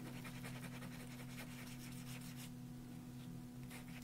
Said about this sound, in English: let me take a sanding disc and I'm just gonna go over that